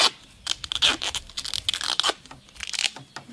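Adhesive tape is pulled off a roll in several sharp, crackling rips, close up, with brief pauses between pulls.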